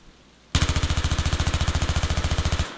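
Rapid automatic fire from an MTAR-21 rifle in Battlefield 3, a single sustained burst of about two seconds, with evenly spaced, loud, close shots that end abruptly with a short fading tail.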